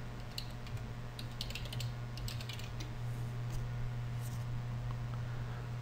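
Fingers type on a computer keyboard in quick, irregular bursts of clicking keystrokes, heard close and steady over a constant electrical hum.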